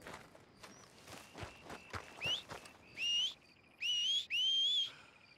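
Player whistling for a horse in the Red Dead Redemption 2 video game: several short rising whistles, the last two long and loud, after a run of soft in-game footsteps and thuds, with no talk.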